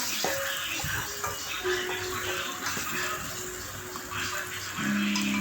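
Chopped onion, two tomatoes and a large amount of garlic fry in a pan, giving a steady, fairly loud sizzling hiss that continues unbroken the whole time.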